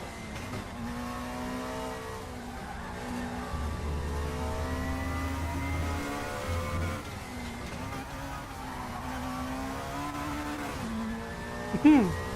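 Race car with a straight-cut gearbox in the RaceRoom racing game, a loud engine climbing through gears with a high gear whine, shifts and a brief tire squeal near the end, under someone talking.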